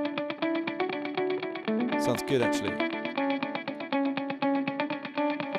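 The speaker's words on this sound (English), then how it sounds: "We're now using the Hydra mode with double echoes and a long decay." Valhalla Supermassive delay-reverb on a dotted eighth orbits preset in Hydra mode, with double echoes and a long decay smearing a dense, distorted chordal riff into a continuous repeating wash, with a brief noisy burst midway and a short spoken comment.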